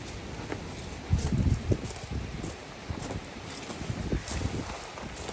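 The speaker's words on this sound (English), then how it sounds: "It's one thing up here, it's windy." Steady wind rushes and buffets outdoors on high ground by gravel roads, with rustling gusts and faint scraping sounds throughout.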